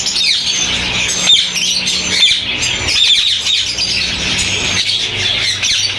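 Blue ring-necked parakeets at an outdoor bird market, a dense, loud, continuous wash of shrill chirps and squawks from many birds, steady throughout with no talk.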